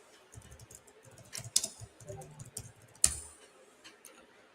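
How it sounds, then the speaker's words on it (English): Typing on a computer keyboard, a close run of quick uneven key clicks with a couple of sharper louder taps, quiet and without speech. "Type it right into Twitter."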